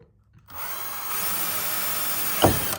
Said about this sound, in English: this is my first time using a RotoZip on PVC